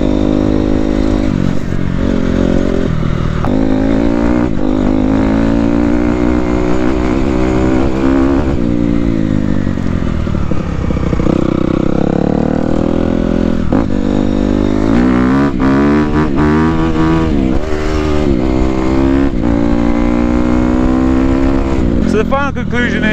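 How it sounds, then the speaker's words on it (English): Honda CRF250R dirt bike with an aftermarket exhaust revs loud and close while riding through trees, a grunty engine rising and falling with the throttle, with someone talking over it. "this is just way more grunty. And it revs through the trees."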